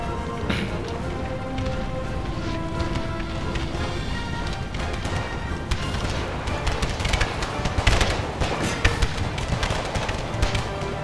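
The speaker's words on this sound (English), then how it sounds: "Now it'd be time to move up and shoot some pot shots at these stragglers." Musket volleys and scattered shots crackle from a Napoleonic-era strategy battle in Rights of Man II, a dense, continuous din of overlapping gunfire with heavier reports near the end.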